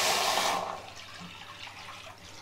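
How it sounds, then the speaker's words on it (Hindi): Half a litre of milk poured into a kadhai, a close, splashy liquid rush that fades after about half a second into faint trickling, with no talk. "इसमें मैं डालूँगा आधा लीटर दूध"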